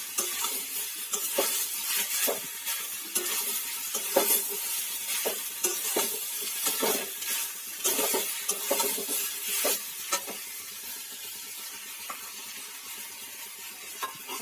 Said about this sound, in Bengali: পোস্ত বাটাটা দিয়ে ভালো করে নাড়িয়ে নেবো একটু।